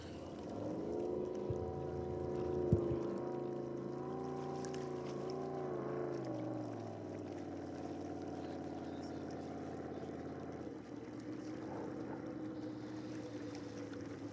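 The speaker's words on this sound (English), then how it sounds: "That's that bigger jet boat that we saw in the last race." Jet boats racing in a heat at a Thanksgiving regatta: a loud, continuous engine roar with a shifting, wavering pitch that sweeps past and then settles into a steadier drone with wind.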